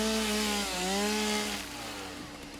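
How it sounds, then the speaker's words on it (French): A chainsaw in the Satisfactory video game cutting through vegetation, a loud steady engine whine that dips briefly and then drops in pitch as the cut ends, with no voices. "ce qui est très intéressant aussi avec la tronçonneuse, c'est qu'elle fait des dégâts de zone"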